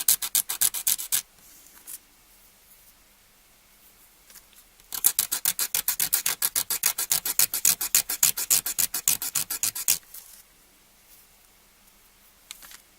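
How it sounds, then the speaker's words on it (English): An emery board rasps against the side of a round toothpick to flatten it, heard up close as short bursts of scratchy strokes followed by a long, fast, steady run of rhythmic filing with no talking. "take an emery board and a round toothpick and just flatten the side down just a little bit"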